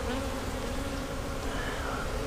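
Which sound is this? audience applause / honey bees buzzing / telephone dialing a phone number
honey bees buzzing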